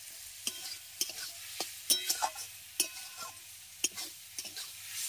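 Bottle gourd and prawns frying in a pan, a quiet sizzle punctuated by sharp, irregular clicks and knocks of a spatula against the pan.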